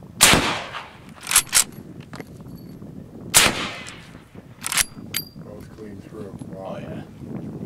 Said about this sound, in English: We're going to shoot some suppressed 500.